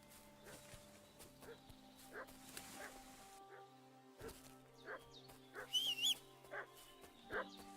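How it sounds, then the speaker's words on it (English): A dog in the video game Kingdom Come barks and yips in short bursts, fairly faint and distant, with whimpers and a soft voice in the background. "What's that dog making such a fuss about?"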